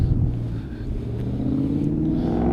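A Ford Mustang's engine rumbles and revs up close, a deep throaty drone that climbs in pitch toward the end, heard alone without talk.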